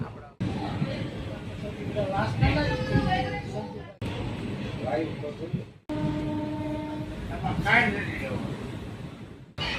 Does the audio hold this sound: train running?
yes